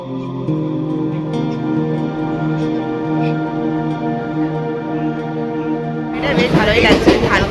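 Steady low rumble and droning hum from inside a moving, nearly empty passenger train on a cold day, continuous and close, with a voice talking over it near the end.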